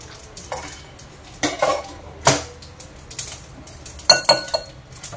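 Black mustard seeds spluttering while tempering in hot oil: scattered sharp pops and crackles, several distinct bursts over a light steady sizzle, close and fairly loud, no talking.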